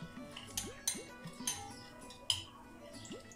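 Ingredients for chicken chow mein, with black pepper added, being stirred together in a bowl, giving light repeated clinks and taps of utensil against dish at an uneven pace, fairly quiet and close.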